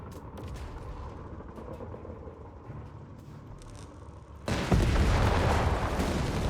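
Battle gunfire and explosions from Company of Heroes 3, with heavy fire on grenadiers and tanks: a steady rumbling wash of distant shots and blasts that jumps to a louder, denser barrage about two-thirds of the way through.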